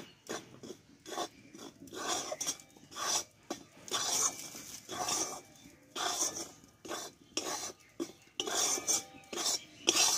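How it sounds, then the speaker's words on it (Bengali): A utensil scrapes and stirs in bursts across a pan as puffed rice flour toasts in ghee, rhythmic rasping strokes close by with short pauses between them. "এবার এখানে অল্প অল্প করে মুড়ি কুড়োটা আমি কিন্তু দিয়ে দেবো। এইভাবে আমি নাড়তে থাকবো।"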